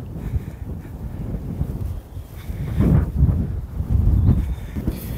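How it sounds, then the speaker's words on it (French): Strong wind buffets the microphone in low, rumbling gusts that swell and fade, with no one speaking. "il y a énormément de vent"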